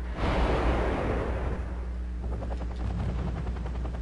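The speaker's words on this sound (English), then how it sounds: "he's firing some artillery at me" Artillery fire in the Wargame video game: a dense, rumbling barrage of distant booms and crackling blasts rolls continuously under a low steady drone, with a series of rapid staccato reports toward the end.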